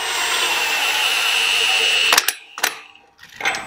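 A power tool drives sleeve nuts tight on a wheel being retrofitted, giving a steady loud whirring for about two seconds before it stops, followed by a few short bursts and knocks.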